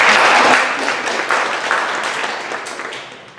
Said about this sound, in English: A round of applause for Ellen Mary.